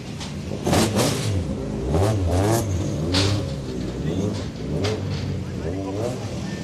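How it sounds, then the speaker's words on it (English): A blue Ford Escort Mark II two-wheel-drive modified rally car revs hard at a rally start ramp, its engine note rising and falling in repeated loud blips while a commentator talks over it. "the blue Mark II Escort. Two-wheel drive modified contenders."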